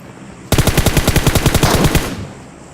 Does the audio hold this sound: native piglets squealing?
no